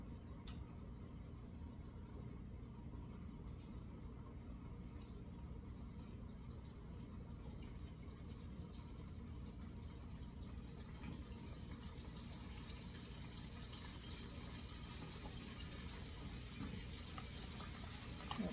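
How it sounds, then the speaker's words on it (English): Thinly breaded scallops fry in hot oil, giving a steady, fairly quiet sizzling hiss that continues evenly throughout, with no voices. "You can hear it's already starting to fry. That oil is nice and hot."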